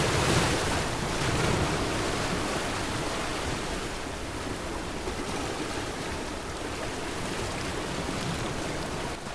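Ocean surf rolls in at the seaside town of Cambria, a loud, continuous broadband roar with gentle swells and wind noise, no voices.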